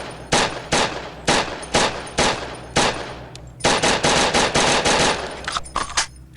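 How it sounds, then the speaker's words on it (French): Rapid automatic gunfire as a magazine is emptied into a creature: several loud, close bursts of quick shots separated by short gaps, ending in a longer sustained volley. "Je ne fais aucune sommation et vide mon chargeur sur la créature."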